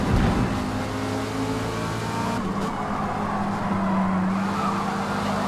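Mazda Miata race car in Forza multiplayer racing, its engine droning loudly and steadily with sustained tonal harmonics that shift pitch as it changes gears, with faint tire and track noise.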